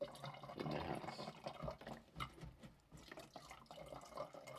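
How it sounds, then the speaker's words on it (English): Water drains from a household faucet at the lowest spot in the house into a pot, an uneven running and splashing stream with gurgles, close and without voices. "now we're just draining water into a pot so that we can have it available if needed"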